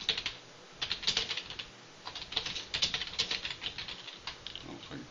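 Rapid typing on a computer keyboard, irregular bursts of clicking keystrokes with short pauses between, close and moderately loud with no voice.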